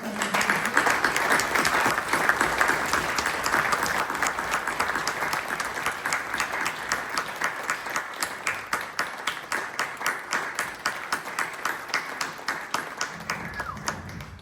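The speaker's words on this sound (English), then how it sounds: "how about a nice round of applause to the quartet?" Sustained audience applause for a string quartet at a celebration gala, steady dense clapping from a full room that thins slightly toward the end, with no voices over it.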